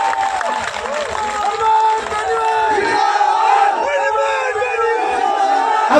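A large political rally crowd cheers, shouts and applauds to welcome a leader being garlanded, a loud, dense and continuous roar with voices over it.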